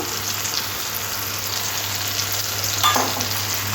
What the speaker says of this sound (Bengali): নুনটাও টমেটোর সাথে ভালো করে মিশিয়ে নেবো